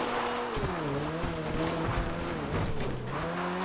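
A Maxwell Vagrant offroad car in GTA Online drives with a loud, close engine drone whose pitch rises and falls as it shifts and accelerates, alongside some tire noise.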